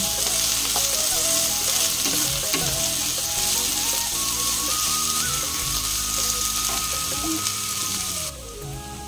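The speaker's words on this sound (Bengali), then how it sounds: "এবারে দেবো পেঁয়াজ আর কাঁচা লঙ্কা দিয়ে এইগুলোকে এবারে ভালো করে ফ্রাই করে নেবো।" Onion and green chillies fry loudly in a pan, a bright continuous sizzle with stirring scrapes, easing slightly just before the end.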